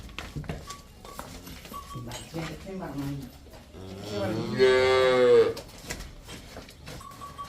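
Cows on a dairy farm for sale, one loud close moo rising clearly over people talking nearby, with a few fainter lowing calls earlier.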